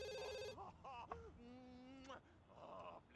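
In The Sims 2, a telephone rings inside the house, a quiet electronic trill heard once or twice amid soft game music, with other faint tones around it.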